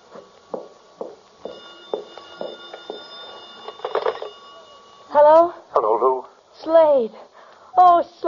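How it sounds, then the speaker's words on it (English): A telephone in an old-time radio drama rings with repeated electric bell trills in the background, then people talk over and after it. "The phone."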